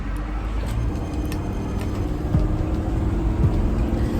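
A motorhome (RV) engine hums steadily with road rumble while cruising past shops and stores, a loud, continuous low drone with no talking.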